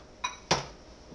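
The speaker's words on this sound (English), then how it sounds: "then I'm going to start adding my peas" Frozen peas tipped into a pan for Hungarian pea soup, two quick rattling clinks close up, the second louder, then quiet.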